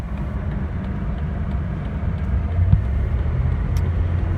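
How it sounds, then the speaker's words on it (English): A 2001 Dodge Ram Wagon 15-passenger van drives at operating speed, its steady low engine and road rumble holding loud and even throughout with no voices. "It's a 2001 Dodge Ram Wagon 15-passenger van. Gets up to operating speed, nice"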